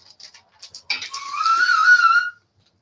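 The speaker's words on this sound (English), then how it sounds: "The way he can whistle like that makes me mad." A person whistles, starting with a few short chirpy notes and then holding a long, clear, wavering tone. The whistling is close and fairly loud, with no other voices.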